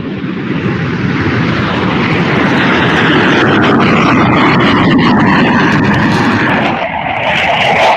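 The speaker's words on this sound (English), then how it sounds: "The Blue Angels are on the roll, getting ready for that final show with the Legacy F18 Hornet" Blue Angels Legacy F/A-18 Hornet jets roar past at an air show, a loud, sustained, broadband jet rumble that fills the whole clip with a slight shift near the end.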